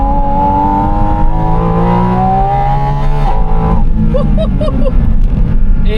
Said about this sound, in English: 4-litre naturally aspirated engine from a GT3 car